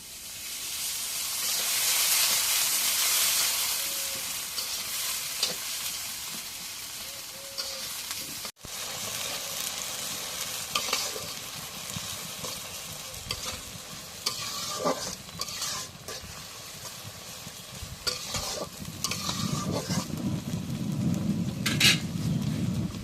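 Pieces of home-raised duck meat and onion fry in hot oil, with a steady loud sizzle and hiss broken by frequent stirring scrapes and clatters close by.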